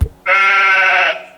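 A single drawn-out sheep bleat, loud and close, wavering for about a second, preceded by a brief low thump.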